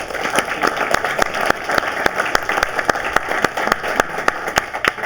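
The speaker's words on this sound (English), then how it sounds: "You can clap that shit up." A seminar audience at a real estate talk claps loudly, with distinct sharp individual claps standing out rhythmically over a rougher background of hands, steady and close throughout.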